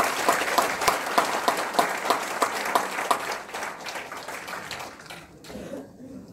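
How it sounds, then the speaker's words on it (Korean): Lecture audience applauding at the close of a talk, a dense, fairly loud round of clapping with rhythmic accents that gradually thins and fades out toward the end. "다시 한번 박수 부탁드립니다"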